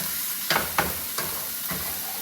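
Onions soften in a pan with Italian seasoning, giving a low steady sizzle broken by a few quick stirring scrapes near the start, close and moderately quiet, with no talking.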